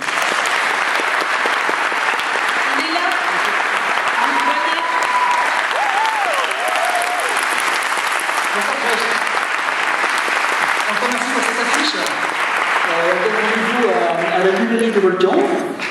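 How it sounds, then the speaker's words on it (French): A festival audience at the opening night of the Clermont-Ferrand International Short Film Festival gives loud, dense, sustained applause that fills the hall from start to finish, with a few voices calling out beneath it. "vous pouvez l'applaudir."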